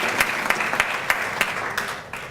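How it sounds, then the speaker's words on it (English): A crowd at a book award event claps for an honored civil rights figure, a brief burst of applause with several distinct close claps before fading out. "Let's give an applaud for Mrs."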